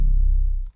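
A heavily distorted 808 bass processed through a vocoder in FL Studio, a single deep, buzzing sub-bass hit that sustains briefly then cuts off abruptly.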